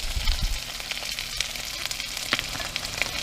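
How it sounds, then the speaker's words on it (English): Potatoes and corned beef hash sizzle steadily in a hot pan, a close, even frying crackle with light stirring scrapes and no voices. "let that sizzle a little bit"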